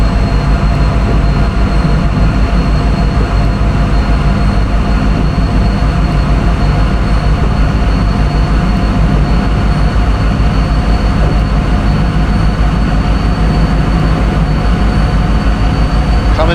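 A PRR V2 Santa Fe Express train accelerates in a train simulator game, a loud, continuous rumbling drone of engine and rolling wheels that holds steady throughout, close up and with no voices.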